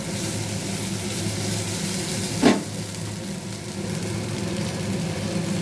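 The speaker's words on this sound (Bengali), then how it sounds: "দেখো ভাজা প্রায় হয়ে এসছে" Steady sizzling of food frying in a pan, with a brief louder stir or scrape partway through; no talking.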